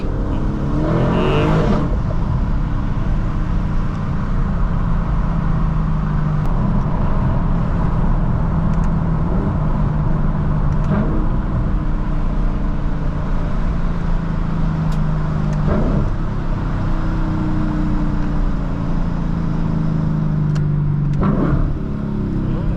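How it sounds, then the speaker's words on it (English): A Lexus LC 500 engine drones steadily throughout, with revs rising and falling through aggressive downshifts and occasional sharp crackles from the exhaust. "starting to get some little pops out the downshifts now"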